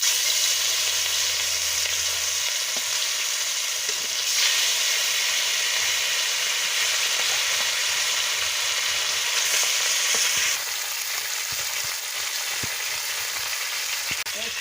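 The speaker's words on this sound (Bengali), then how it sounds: "তেল গরম হয়ে গেছে, আমি মাছটা ছেড়ে দিচ্ছি।" Kalbasu fish sizzling in hot oil in a pan, a loud steady crackling hiss that runs throughout with brief surges, heard alone with no talking.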